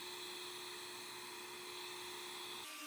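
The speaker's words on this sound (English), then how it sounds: "I'm using that no-pressure sanding method again." An EGO power sander runs steadily on laser-cut wood veneer with light, no-pressure passes, giving a close, continuous whine and hum that stops abruptly near the end.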